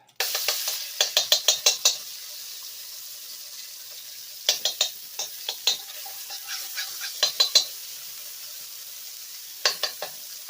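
Flank steak stir-fried with zucchini in black bean sauce, the pan giving a soft sizzle beneath repeated sharp scrapes and clinks of a spatula, arriving in quick bursts with pauses between.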